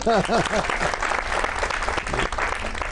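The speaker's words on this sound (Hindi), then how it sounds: "ताली हो जाए।" Studio audience applause on a Geo News talk show set, a steady wash of clapping that follows a voice speaking over its opening moments, then fills the rest alone at an even, moderately loud level.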